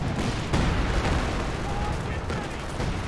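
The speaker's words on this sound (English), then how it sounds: "A lot of artillery, though, coming in." Incoming artillery fire in Company of Heroes 2 makes a dense, continuous rumble of distant blasts and gunfire, with a few sharper impacts standing out and a voice talking over it.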